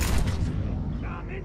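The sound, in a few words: biotic explosions in Mass Effect 3 video game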